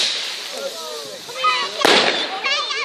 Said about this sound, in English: Just waiting for the firework.